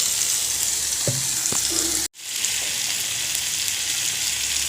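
Chopped tomatoes sizzle and fry with salt in a pan, a steady close hissing broken by a couple of spoon taps and a brief cut, with no talking.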